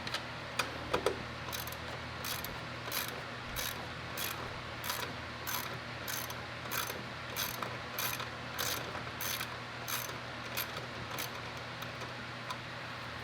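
A ratchet turning out 10 mm bolts from a solenoid on a Hellcat, giving a rapid, even clicking of the pawl in steady bursts, close up and without talk.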